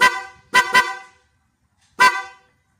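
Loud, close car horn blasts: a short honk, two quick honks in a row, a pause, then one more honk.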